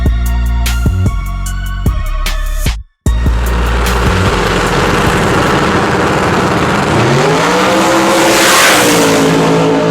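A 2800-horsepower Hemi-swapped Toyota Supra drag car roars down the quarter mile at around 233 mph, with loud stuttering engine bursts, a brief cut, then a sustained high-pitched howl that rises and sweeps as the car pulls away.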